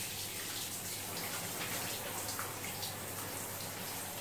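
Shower water sprays steadily onto a Norwegian Forest Cat during a bath, a continuous close hiss of droplets hitting wet fur and the tub, with no talking.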